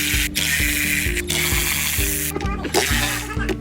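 A ratchet wrench clicks in quick steady strokes while loosening intake manifold bolts and nuts on a BMW 3 Series, close and crisp, with brief pauses between runs.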